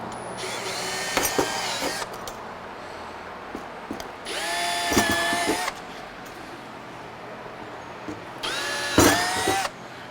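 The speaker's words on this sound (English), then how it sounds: "So I'm just drilling holes in this plastic housing." A power drill whines in three separate bursts, each a couple of seconds long, boring into plastic with quiet pauses between them.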